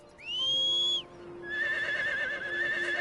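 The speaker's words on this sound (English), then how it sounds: "Press X in front of a horse to ride it." A horse whinnies in the Harvest Moon: Winds of Anthos video game, a loud rising-then-falling neigh followed after a brief pause by a second, longer wavering whinny.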